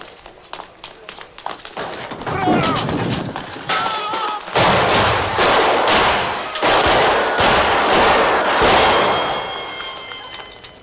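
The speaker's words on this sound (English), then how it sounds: "2 button men are sent to do the job and end up shooting Vito 5 times in the back." Gunfire from a film scene in The Godfather, where Vito Corleone is shot five times in the back. Loud sharp bursts come amid dense, chaotic commotion, with scattered voices in the mix.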